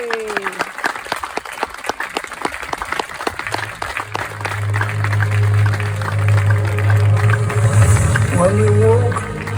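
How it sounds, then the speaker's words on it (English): A crowd at a day honouring NHS, social care and frontline workers gives hearty, sustained applause, dense clapping continuing throughout while a low steady musical tone rises underneath partway through. "It is worthwhile ending these proceedings with a hearty clapping for all the NHS workers"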